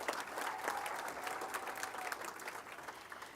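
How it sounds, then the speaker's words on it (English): Steady round of applause from a banquet audience at a girls basketball hall of fame induction, an even wash of many hands clapping throughout, moderately distant. "Yes, give her a round of applause."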